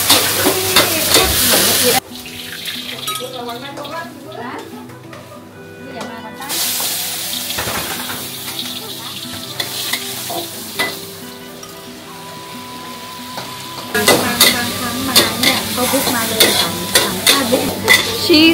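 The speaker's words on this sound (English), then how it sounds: "and then drunken stir fry" Drunken noodles stir-fried in a wok at a local food stall in Phuket: loud bursts of sizzling and clanging metal-on-wok scraping frame a quieter middle stretch with faint voices and kitchen bustle.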